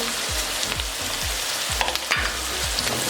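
Whole garam masala with black pepper, cumin and cinnamon sizzles steadily in a hot pan, with a run of regular low knocks from stirring every half second or so, close and fairly loud, with no voices.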